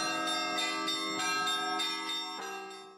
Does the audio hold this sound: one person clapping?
no